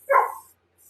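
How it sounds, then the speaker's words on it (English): A puppy gives one short, close bark-like yelp, loud and alone, then silence. "Oh, that's my puppy."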